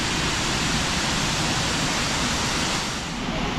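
Sam Pho waterfall in the rainy season roars as a loud, steady rush of falling water, close and continuous throughout with no voices.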